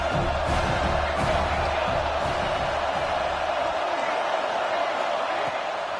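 A dense roar of crowd cheering fills a college football stadium at a Miami versus Alabama game, sustained and loud throughout, with occasional thumps beneath it before easing slightly toward the end.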